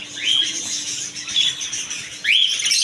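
Prince birds in a pet shop give three clear, rising whistled chirps spaced about a second apart, close and fairly loud over a soft background hiss.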